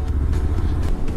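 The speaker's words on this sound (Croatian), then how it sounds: "Pravi stromovski motor." A Suzuki V-Strom motorcycle with a parallel-twin engine idles close by in a steady, low, smooth rumble that holds level throughout.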